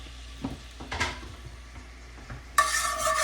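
Lemon butter sauce is stirred in a pan: a few soft clinks and scrapes at first, then an abrupt, loud sizzle that holds steady for the final second, with no speech.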